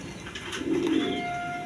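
Farm-bred breeding pigeons give a low, rolling coo that rises into a brief, fuller burst and then settles into a steady murmur, close by with a thin high tone lingering behind.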